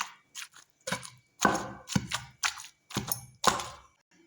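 Gongura leaves, tomatoes and salt pounded in a stone mortar: a steady series of about eight heavy, close thuds with short crunching, squashing tails, evenly spaced, with no talking.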